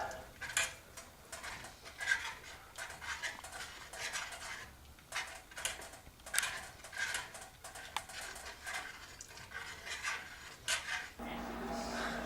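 A spoon stirs and scrapes through a thick, gummy caramel sauce in a pan, making repeated soft clinks and rubbing scrapes at close range, steady and unhurried, with no talking.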